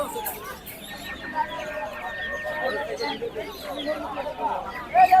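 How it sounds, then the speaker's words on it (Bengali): Tiger chickens cluck and squawk in scattered bursts at a busy duck and chicken market in Tongi, mixed with the steady murmur of people talking nearby. "এগুলো একটু বড় সাইজের টাইগার মুরগি জোড়া তিনশো বিশ টাকা"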